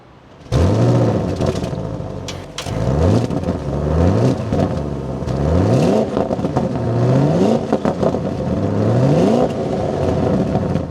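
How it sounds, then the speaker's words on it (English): An Audi RS7 Performance V8 fires up and revs repeatedly, each throttle blip rising and falling in a loud, close, rhythmic series of roars with a faint mechanical clatter and no talking. "let's fire this up and take a listen to that V8"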